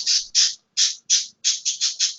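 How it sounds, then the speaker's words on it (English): A pet bird squawks loudly and close by in eight harsh, scratchy bursts, each cut short, with brief gaps between and no talk over them. "your bird has quite the opinion on this question"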